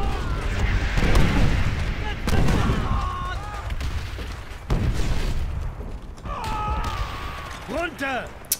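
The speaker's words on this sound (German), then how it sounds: "Digga, da kommen einfach drei Granaten." Grenades go off in Call of Duty World at War, several loud booming blasts at intervals with gunfire around them, while players shout over the chaos.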